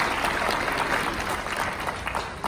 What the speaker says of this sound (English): So can you please give yourselves a round of applause?